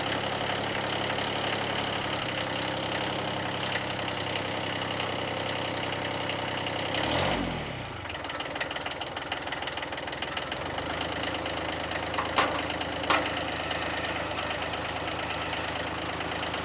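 A Kubota B1502 tractor's small diesel engine runs steadily up close, its pitch shifting as the throttle is opened, with a couple of brief clicks near the end and no talking.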